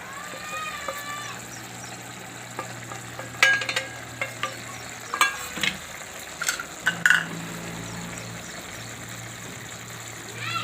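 A spoon stirs roasted chickpea flour into cooking spinach in a pan for a Gujarati spinach shaak, giving a steady soft sizzle with scattered scraping clicks and taps throughout.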